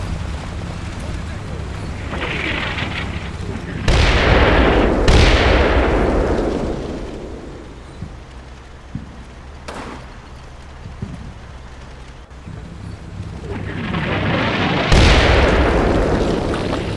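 Mortar fire and a Panther tank's blasts in the World War II game Combat Mission: Battle for Normandy, heavy booming explosions with long rumbling tails, several loud hits spread across the stretch with quieter gaps between.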